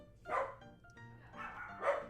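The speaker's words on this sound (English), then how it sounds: "I think I just set my dogs off by saying that." Dogs barking somewhere in the house, two clear bursts of barking about a second and a half apart, moderately loud with a quieter stretch between them and no talk over it.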